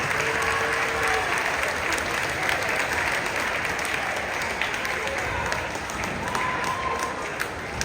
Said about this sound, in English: parents applaud yourselves for all you do